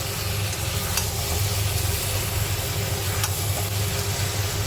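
Spices being sautéed in oil for a jackfruit and prawn curry, a steady moderate sizzle with occasional faint scraping stirs and a low background hum.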